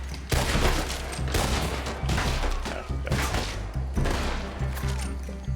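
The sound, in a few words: gunfire in video game Red Dead Redemption II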